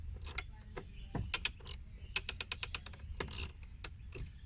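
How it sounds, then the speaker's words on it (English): A screw is tightened by hand while a new aftermarket speaker is fitted into the door card of a Mercedes W203, giving a run of quick, close clicks and ratcheting ticks in uneven bursts. "And then you tighten the screw."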